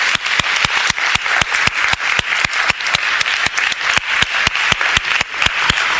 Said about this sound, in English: a big applause for the team working there